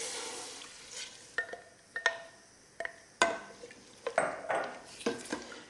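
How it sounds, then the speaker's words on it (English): Vegetable stock poured into a pot of curry-spiced parsnips for soup, with sizzling under a series of clanking stirs and pot knocks, moderately close, no talking. "we'll tip in the vegetable stock"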